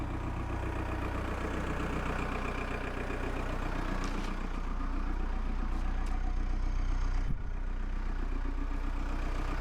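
A vehicle engine idles nearby at a house framing site, a steady low rumble with a faint knock or two, running alone without talk for the whole stretch.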